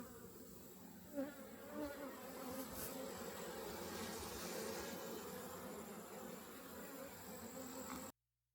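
Honeybees swarming around an open ten-frame hive packed with brood during an inspection, a dense continuous buzz filling the air close by, steady throughout with a brief bump early on.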